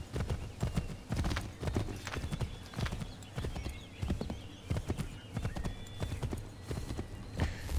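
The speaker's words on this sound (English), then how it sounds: "luckily we have a horse, so it's gonna be a little bit faster." Horse hooves in the video game Assassin's Creed III Remastered pound in a quick, steady galloping rhythm, close and continuous, with a brief whinny mixed in.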